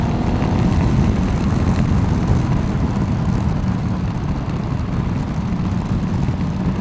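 A Ducati Multistrada 1200 accelerates hard in third gear, with a loud, steady engine roar and wind rush that hold at constant intensity throughout and carry no speech.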